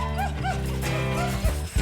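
A Siberian husky sled dog whines and yips in short rising calls over a busy background, with a voice faintly present.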